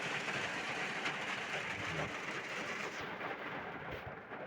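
Rain drums steadily on a four-wheeler car during a downpour at a Vishwakarma puja in Ghazipur. From inside the car it is a dense, even hiss with a low rumble, loud and unbroken throughout.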